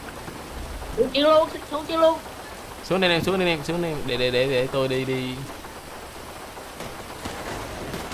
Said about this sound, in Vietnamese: Nữa, trời lại mưa rồi